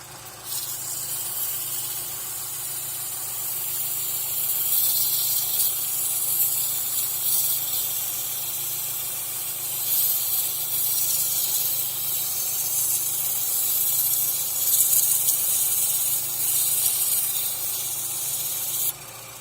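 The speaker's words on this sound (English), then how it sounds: "even just a wire brush, I get in there, and it just kicks out a lot of dust" A wire brush scrubs rust off the V-groove belt pulleys of an Isuzu Trooper 4ZE1 engine that sat outdoors in the bush for years, making a loud, continuous hissing scour that holds steady from start to finish.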